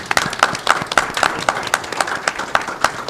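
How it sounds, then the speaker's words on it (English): A small group at a school board of education meeting claps for the school's baseball team after its championship. The claps come in a quick, even rhythm from nearby. "I think that needs a round of applause"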